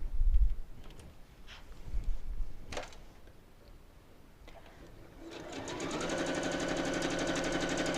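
Sewing machine chain piecing quartered-inch seams on nine patch quilt block pieces, a few handling clicks and fabric shuffles first, then a close steady rapid mechanical whir starting midway and continuing, with no talk.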